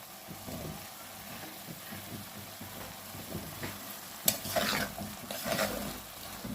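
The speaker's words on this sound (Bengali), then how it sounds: "টমেটোর সাথে আলু একসাথে কষায় নিব।" Small potatoes and tomatoes sautéed together in a pan, heard as a soft sizzle under repeated scraping and clinking stirs of a utensil, fairly quiet and close, growing a little busier toward the end.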